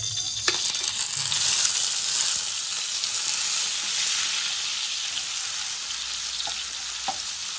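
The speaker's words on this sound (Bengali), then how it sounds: "আমি ওই সেম তেলের মধ্যে দিয়া দিব এখন পেঁয়াজ পেস্ট" Onion paste hits hot oil for a prawn curry and fries with a loud, steady, close sizzle, with a few soft clicks of stirring through it.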